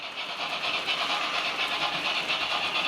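Model steam locomotive running with a digital sound decoder and speaker produces a steady, hissing chuff with a soft rhythmic pulse, close and continuous, with no voices.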